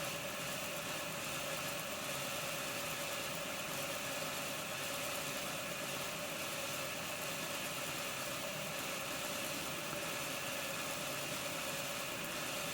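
Steady whirring motor of an Accurascale Deltic model locomotive with a fault, humming continuously with broadband noise and no clear gaps, no voices present.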